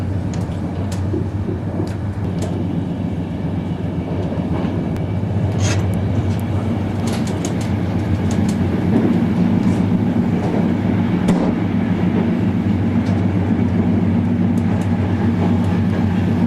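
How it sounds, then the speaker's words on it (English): A long train rumbles past continuously in Switzerland, a steady low mechanical drone with faint clanks and squeals, loud and close, with no pauses for over fifteen seconds. "It's a long train."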